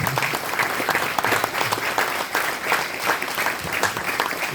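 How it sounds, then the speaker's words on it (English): A crowd at a ribbon-cutting ceremony applauding, a full, steady roar of many hands clapping at fairly close range that keeps an even loudness throughout, with faint voices mixed in. "Let's give Phil a round of applause."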